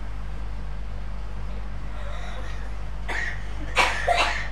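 Two short coughing bursts from a frail recovering man at home, the second harsher and louder, against a steady low hum with no talk.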